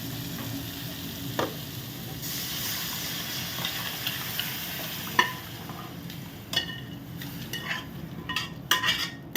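Mutton stir-fries in a pan, a steady sizzle broken by scraping and knocks as a utensil stirs the meat and clinks against the metal.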